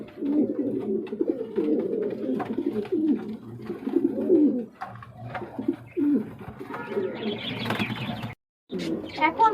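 A fancy pigeon breeding pair ready to lay eggs coos in repeated, throaty pulses close by, with a short silent gap near the end and faint chirps behind.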